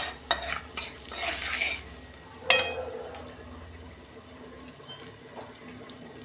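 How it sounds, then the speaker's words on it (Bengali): Water poured into a pan of spiced oil for a hilsa fish curry: stirring scrapes and splashes, then a sudden sharp sizzling rush as the water hits, fading to a low simmer, close by with no speech. "জল দিচ্ছি।"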